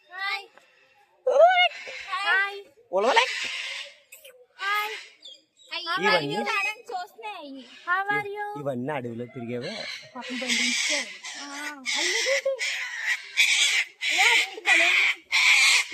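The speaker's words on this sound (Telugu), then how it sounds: "లవ్ బర్డ్స్ బాగుంటాయి కదా, వీటిని లవ్ బర్డ్స్ అంటారు" Lovebirds at the Vizag zoo chirp in bright, rapid bursts that grow dense and continuous in the second half, mixed with a voice and adult chatter nearby.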